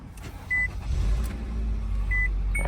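A 2016–2018 Nissan Altima's engine starts and settles into a steady low rumble close by inside the car, with a few short electronic chimes sounding over the idle.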